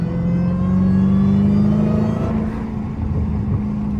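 A Dodge Hellcat rumbles loudly from close inside the car on a street drive, the engine holding a deep steady tone that swells and shifts pitch as it revs, with no talking.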